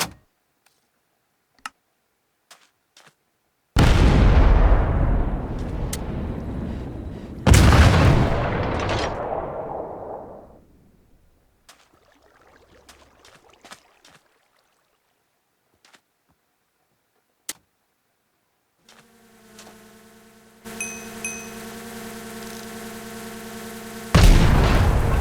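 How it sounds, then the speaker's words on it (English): Artillery in the Minecraft Superb Warfare mod fires on a target: two loud booming blasts a few seconds apart, each trailing off into a long rumbling decay, with sparse clicks and a steady mechanical hum rising near the end. "Now the artillery should begin firing on target."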